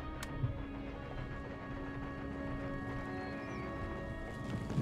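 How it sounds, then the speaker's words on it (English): Cavalry charging in the game Empire Total War, a dense rumble of galloping hooves with occasional whinnies under steady battlefield noise, continuous and moderately loud throughout. "I can hear their cavalry charge."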